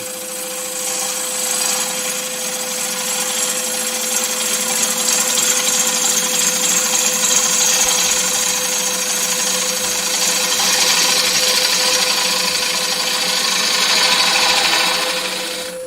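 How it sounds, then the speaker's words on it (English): A woodturning gouge rips wood away from a spinning piece on a lathe in a roughing cut, giving a continuous close scraping hiss over the motor's steady hum, with no talk. "You see I'm ripping some wood away there"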